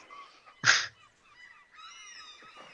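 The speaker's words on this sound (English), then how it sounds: "I'll play the seagull noise for the listeners." A short burst of squeaky, honking bird calls, one loud cry standing out among fainter squawks, like gulls calling nearby.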